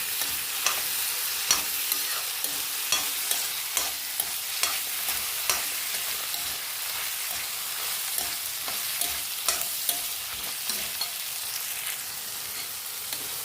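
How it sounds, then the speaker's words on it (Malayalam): Chana dal roasts in a pan while being stirred, a dry steady sizzle punctuated by regular sharp scraping taps of a spoon against the pan throughout. "ഇതിൻ്റെ കൂടെ തന്നെ ഒരു രണ്ട് ടേബിൾ സ്പൂൺ കടലപ്പരിപ്പ് അല്ലെങ്കിൽ പൊട്ടുകടല അതുകൂടിട്ട് മൂപ്പിച്ചെടുക്കാം"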